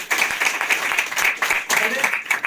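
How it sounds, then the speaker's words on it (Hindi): Audience applause at a business meeting: dense, overlapping claps that rise and dip in waves, with a voice heard over them. "एक बार जरूर तालियां चाहूंगे"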